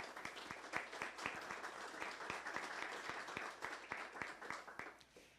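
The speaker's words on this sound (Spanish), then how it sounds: "Un aplauso, por favor." Applause rises from the audience at the opening of a democracy week event in Mexico, a fairly quiet, distant crowd clapping with distinct individual claps standing out in a brisk, uneven patter that tapers off at the end.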